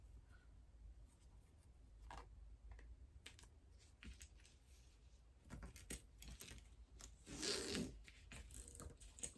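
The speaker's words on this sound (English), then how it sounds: "and put my zipper pull on" A zipper pull goes onto the zipper of a sewn pencil pouch, with soft intermittent clicks, metallic jingles and fiddling taps close by, building to a brief rustling scrape near the end; no talking.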